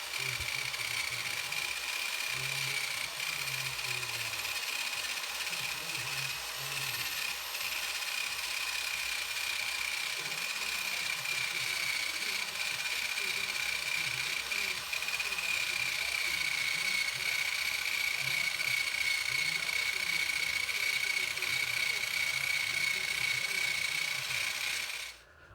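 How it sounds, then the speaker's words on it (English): A 3M wheel on a power tool strips leftover adhesive from single-stage car paint, giving a steady, loud abrasive whir and rasp that runs unbroken for the whole stretch with no talking. "This is another way using the 3M wheel."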